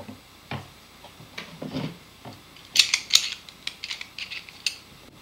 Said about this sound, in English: And then just tighten this nut down.